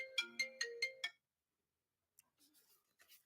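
A mobile phone ringtone plays five quick bright tonal pulses, then stops as the call is answered, followed by faint rustling and a soft voice.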